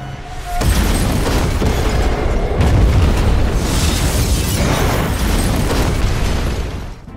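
A sudden, loud blast erupts and rolls on into a long, roaring rumble of debris and fire that slowly tapers off.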